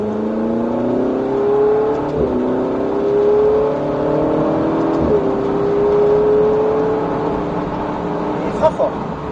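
A Ferrari 488 GTB accelerates on a track, its engine note rising in pitch in repeated sweeps as it pulls through the gears, loud and close, with people talking over it.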